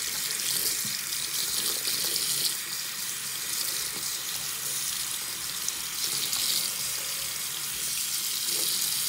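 Tap water runs steadily and fairly loudly throughout, a continuous broad hiss of a faucet stream as a scratched game disc is rinsed under it, with no talking.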